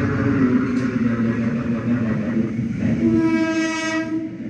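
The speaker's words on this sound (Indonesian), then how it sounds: "Untuk yang sering naik kereta api, pasti akrab dengan suara tersebut." A train runs along the rails with a loud, steady rumble and rattle of the cars, and a drawn-out horn blares near the end.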